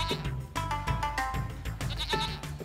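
Several goats at a goat dairy farm bleat in overlapping, wavering cries, loud and near, one call running into the next.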